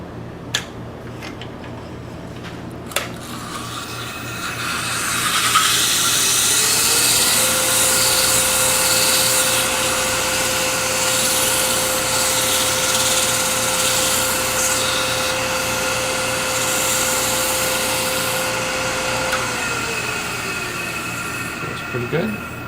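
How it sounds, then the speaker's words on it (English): The inside of a turned wooden ring box is sanded on a lathe. It starts with a few knocks, then a steady whirring hum with a sustained tone builds and runs on, loud and close. "I'm going to resand the inside because I re-drilled it"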